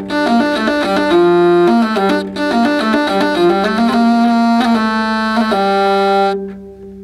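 A hurdy-gurdy captured through a microphone plus a Schertler pickup plays a bright, nasal, buzzing melody over a sustained drone, with continuous bowed-wheel tone and brief breaks between phrases, loud and close with no talking.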